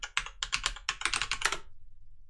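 A password goes into a computer keyboard during a Debian system login as about a dozen quick keystrokes in an uneven burst lasting under two seconds, close and crisp, followed by quiet.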